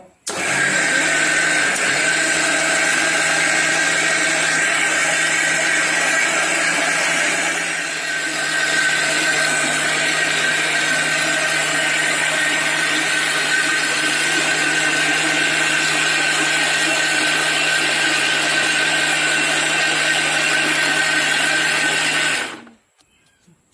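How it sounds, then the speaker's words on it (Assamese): A mixer grinder jar blends ingredients for a sugared batter, its steady loud motor whine running continuously for about twenty-two seconds, with a brief dip partway through, before cutting off abruptly. "এতিয়া মই মিক্সিং জাৰটো এইখিনি মঠি ল'ম।"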